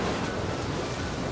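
Sea waves roll in at the foot of the cliffs of Cap Gris-Nez, a faint, steady wash of surf blended with wind noise, with no voices.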